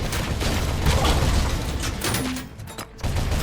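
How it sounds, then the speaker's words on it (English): A rocket explodes in RoboCop: Rogue City, a loud, sustained blast and crashing debris that rumble for a few seconds, dip briefly and then flare again. "I think that rocket's on fire. Is it going to explode? Yes."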